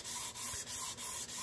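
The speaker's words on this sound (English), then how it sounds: "I'm not going to bore you with a half an hour of me sanding this" Steady rhythmic rubbing of a 400 grit sanding block over a finished car frame, a Chevelle, with four evenly spaced back-and-forth strokes, close and alone.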